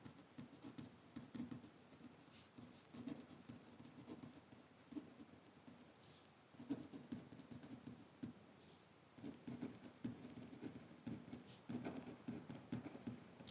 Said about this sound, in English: So maybe I'll just write that here.